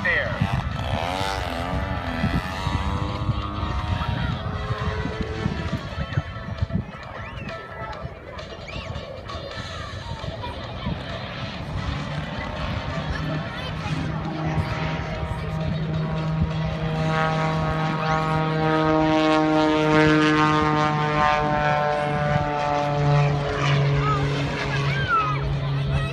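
A 3D Hobby Shop 106 Edge radio-controlled aerobatic plane flies at the Chennault Airshow 2015, its propeller engine droning and rising in pitch continuously, loud and fairly close throughout, with an announcer's amplified voice talking over it.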